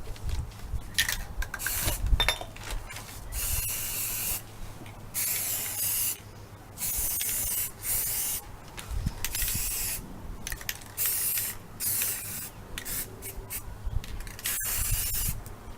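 Aerosol spray paint being applied to Dollar Tree glass jars in repeated hissing bursts of one to two seconds each, with short pauses between them, close and fairly quiet.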